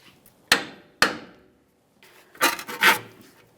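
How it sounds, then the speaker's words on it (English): Two sharp metallic hammer taps half a second apart on the tie rod stud of a 2015-2020 Ford F-150, followed by a pause and then some scraping, rubbing handling noise. "we can lightly tap on the stud of the tie rod in here"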